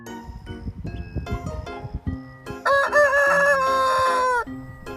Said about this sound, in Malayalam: പൂവൻ കോഴി എങ്ങനെയാണ് ശബ്ദമുണ്ടാക്കുന്നത്? ഒന്ന് കേട്ടു നോക്കാം.